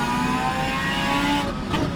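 Loud GT500 race car engine at Brands Hatch in the rFactor 2 racing simulator, a steady high-revving tonal drone heard close and continuous with no talk.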